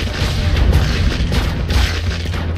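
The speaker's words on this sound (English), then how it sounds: "Is that a rocket launcher? Oh, it's a rocket launcher." A rocket launcher explosion in the Crimsonland video game booms loudly, a dense, continuous low rumble with a couple of bursts layered close together and no talk over it.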